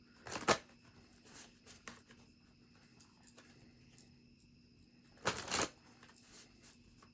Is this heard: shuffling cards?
yes